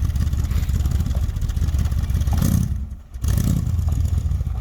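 A vintage van engine idles low and loud up close, a steady rumbling chug that dips briefly before settling back into its rough idle.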